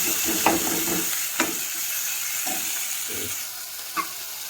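Tomatoes and red chilli sizzling in a hot pan for Punjabi macaroni, a steady bright frying hiss with a few soft clinks and scrapes of a spoon stirring at irregular intervals, close and with no talking.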